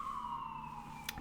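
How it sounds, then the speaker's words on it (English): Emergency siren in downtown Seattle, a steady wailing tone slowly sliding downward, moderately distant and alone with no talk. "Apologize for the sirens."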